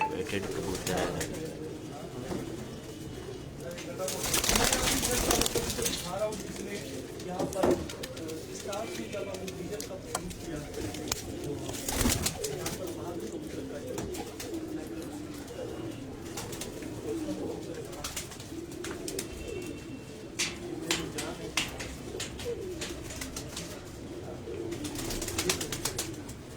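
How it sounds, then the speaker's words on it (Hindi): Sindhi pigeons coo in a low, rolling, repeated rhythm from a rooftop loft, close and steady, mixed with people talking and other background sounds. "ये जी माशाल्लाह सिंधी कबूतर का शौक करवा रहे हैं आप।"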